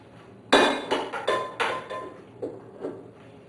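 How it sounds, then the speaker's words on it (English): A utensil clinks and knocks against a bowl while vanilla sugar, baking powder and sugar are mixed for an apple-chestnut cake: about seven bright, close taps in an uneven rhythm, fading toward the end. "the next step is to mix together the vanilla sugar, the baking powder,"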